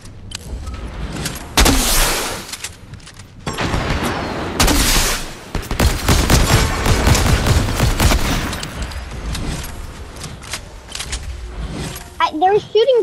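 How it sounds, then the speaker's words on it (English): Enemy gunfire in a VR shooter game: bursts of dense, loud shots and rattling volleys come in waves, with quieter gaps between them and a few sharp mechanical whirs near the end. "They're shooting behind us,"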